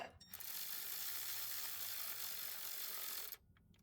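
A hand ratchet clicks rapidly and steadily for about three seconds, snugging bolts during a major service on a Subaru Forester STI, close and clear, then stops abruptly.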